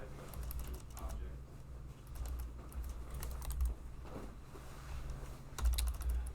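Quiet typing on a computer keyboard, scattered soft key clicks in an irregular rhythm under a low steady hum, with faint talk in the background.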